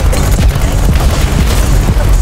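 Grenades blast in the video game BattleBit Remastered: booming detonations and crackling fire over a dense, loud din of gunfire and combat noise.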